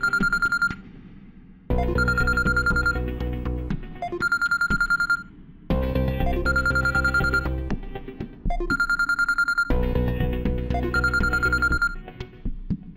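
A telephone rings during a call in an Indian TV drama: a repeating electronic ringtone in evenly spaced bursts about every two seconds, with short gaps between them, clear and close, with no talking over it.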